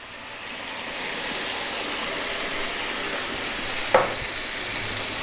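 Canned coconut milk pours into a sweet potato curry and gets stirred in a hot pan, a steady close sizzle and bubbling throughout with a brief clank of a utensil near the end.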